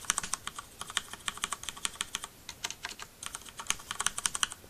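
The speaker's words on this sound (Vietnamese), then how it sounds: "Em để gần cho bạn nghe thử âm thanh khi bấm bấm phím." Rapid typing on a Ducky Shine mechanical keyboard with Cherry MX Red linear switches, recorded up close: a dense, steady stream of crisp clacks and taps with no talking.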